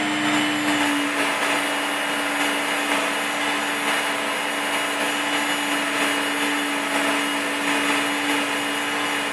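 A Work Sharp powered sharpener buffs the edge of a katana sword on a 6000 grit belt, giving off a steady loud motor whine with constant high grinding hiss and no pauses.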